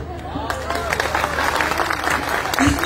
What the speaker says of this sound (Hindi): तो एक साथ ताली बजाएं।